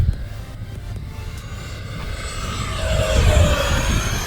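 Remote-control F-16 model jet making a full-throttle fast pass outdoors, its loud turbine-like roar building and sweeping past with a rising then falling whine, no talking.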